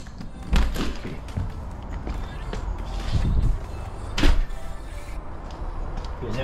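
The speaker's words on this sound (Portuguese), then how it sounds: "Vou abrir a porta." A door is opened with a few thumps and scraping slides over steady background noise, close by and moderately loud.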